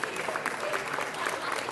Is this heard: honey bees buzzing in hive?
no